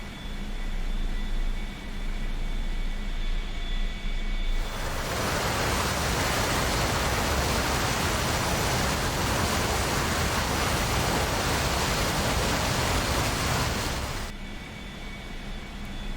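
A-4 jet aircraft flying a mission over Laos, heard as a loud, steady broadband roar that swells in abruptly, holds for about ten seconds and cuts back to a quieter background hum.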